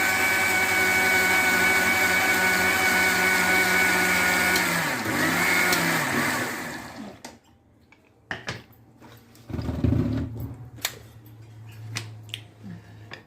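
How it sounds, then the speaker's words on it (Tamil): A kitchen mixer grinder whirs loudly and steadily while grinding palak spinach, its motor pitch dipping briefly before it shuts off, followed by scattered clicks and knocks. "அப்பா இன்னொரு சுத்து அரைக்கிறாங்க"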